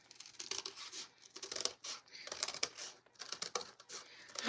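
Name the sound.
scissors cutting out a paper heart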